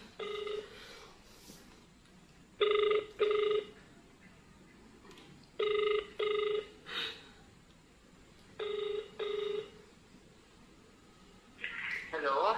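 A telephone rings in three paired bursts during a call, each double ring loud and regular over quiet background, with a few faint voices near the end.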